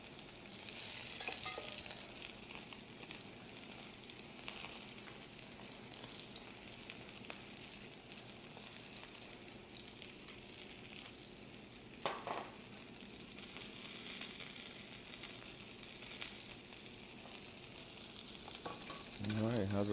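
Sweet and sour sauce with sugar, black pepper, pineapple and tomato frying in a pan, a continuous close hiss and bubbling sizzle with light stirring, steady and fairly quiet throughout.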